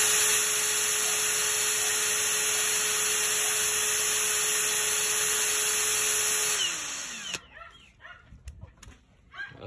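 Einhell TE-CD Li BL cordless drill driver spinning at full throttle in second gear, a loud steady high whine for about seven seconds that winds down and stops, leaving faint background noise.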